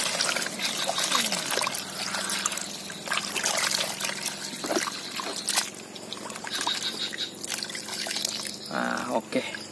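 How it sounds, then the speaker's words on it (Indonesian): Liquid organic fertilizer mixture made from organic waste, poured slowly and stirred, gives a continuous trickling, sloshing pour that runs steadily throughout, with some background speech. "kita tuangkan perlahan ya, sekalian dicampur ini supaya mikroba tadi bisa berkembang."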